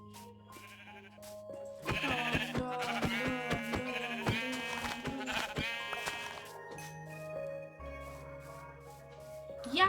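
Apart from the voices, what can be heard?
sheep bleating in a video game, Minecraft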